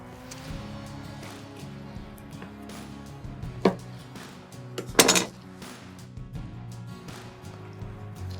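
A knife cuts a smoked standing rib roast in half on a board, with soft sawing strokes broken by sharp metallic clinks and a couple of louder knocks.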